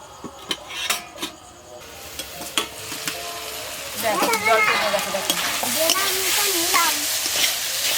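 Chicken roll filling fries in a pan with a steady sizzle and repeated scraping and knocking stirs, and someone talks over it in the second half.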